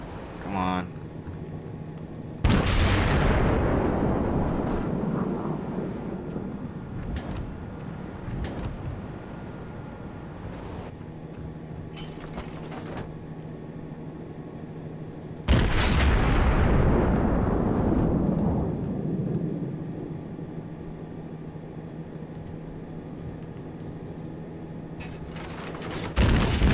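Enemy naval artillery fire in World of Warships, two heavy booming salvos that each decay into long rumbling tails, loud and close, with quieter ambient game sound between and a further hit at the end.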